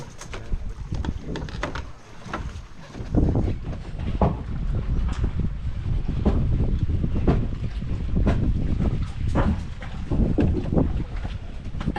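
Steady wind gusts across an open outdoor work site in hot weather where an old pole is being taken down, with broadband rumble and buffeting on the microphone running throughout, plus a few sharper knocks and some faint bird calls.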